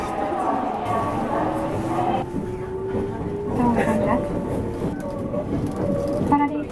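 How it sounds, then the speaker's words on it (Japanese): A train on Japan's San'in Main Line pulls away on a rainy day, a steady rolling rumble with rising motor whine and faint rail clicks, heard from inside the car while a voice talks over it. "それでは、発車します。"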